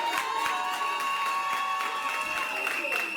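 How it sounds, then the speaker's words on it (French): An audience at a celebration applauds and cheers loudly and steadily, with voices mixed into the dense clapping. "On applaudit très fort pour lui."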